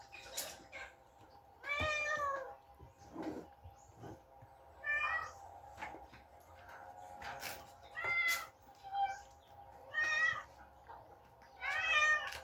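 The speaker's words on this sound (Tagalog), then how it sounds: "maingay yung mga pusa" Cats meow repeatedly, several drawn-out calls spaced a second or two apart, fairly close, over a faint steady hum.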